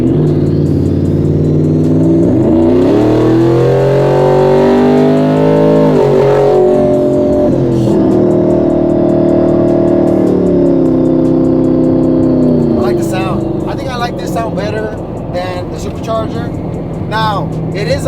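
A 2024 Ford F-150 with a twin-turbo setup revs loudly and steadily, its engine note rising and falling through several pitch sweeps across the whole stretch, with a brief voice breaking in near the end.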